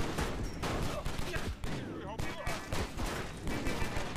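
Gunfire in the video game John Woo's Stranglehold: dense, continuous bursts of rapid shots fill the whole stretch, with a player's voice talking over the shooting.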